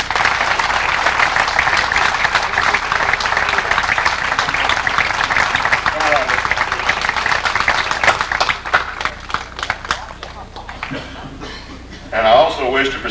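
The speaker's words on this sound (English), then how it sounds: "please give a warm round of applause for Mr." Warm audience applause for Bob Walker, the Oldies King, at the NOMAA awards banquet in New Orleans, a loud sustained crowd clapping that thins out toward the end, with a brief swell near the close.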